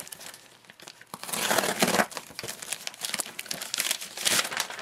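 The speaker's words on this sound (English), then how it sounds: "I'm going to go ahead and cut this out." A shipping package is slit and torn open with a box cutter, producing rustling, crinkling and scraping bursts of cardboard and packing material that swell and fade irregularly, close by with no speech.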